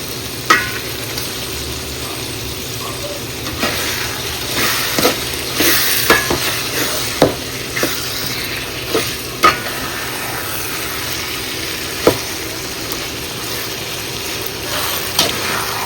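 Chicken added to onion and tomato frying in a pan for pepper chicken gravy, with a steady sizzle under repeated spoon stirs and scrapes that click against the pan at close range, and no one talking.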